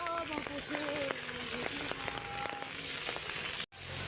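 Steady rain falls over a rural rice-planting area, a dense continuous hiss running throughout, with people talking over it.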